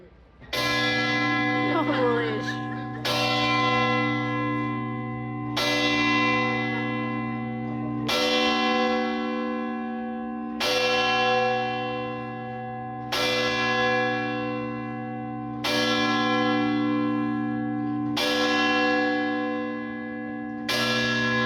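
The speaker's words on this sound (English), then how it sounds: "Instead, electromagnetic hammers tap the bell." Bells of the Leaning Tower of Pisa, struck by electromagnetic hammers, toll eight times at a slow, even pace. Each strike is loud and close, with a long shimmering decay.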